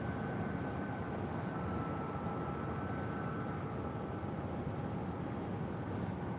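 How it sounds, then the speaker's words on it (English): American Airlines Boeing 737 taxiing toward a gate at Phoenix airport: a faint, steady jet engine rumble and hum with a thin whine, distant and unchanging throughout. "heading toward one of the gates."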